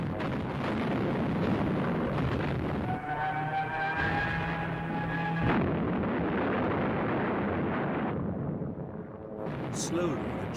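Heavy rumbling explosions and blasts of a World War II street battle with Stuka dive bombers attacking, loud and continuous, with a droning tonal whine through the middle.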